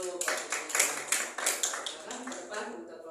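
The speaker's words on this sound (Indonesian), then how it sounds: "Oke, tepuk tangan dulu" A group of schoolchildren claps together in a classroom, sharp rhythmic hand claps in quick patterned bursts, fairly close and clear, tapering off toward the end.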